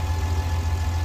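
A tractor engine idling in Farming Simulator 19, a steady low throbbing hum with an even pulse, close and constant for the whole short stretch.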